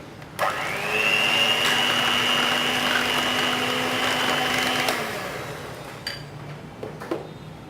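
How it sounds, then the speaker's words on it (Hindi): Half a kilo of yogurt is whisked for dahi bhalla by an electric mixer or blender that starts up, holds a steady mid-pitched whir for about four seconds, then winds down, followed by a few faint clinks and taps. "अब ये मैंने आधा किलो दही लिया है, इसको फेंट लेंगे।"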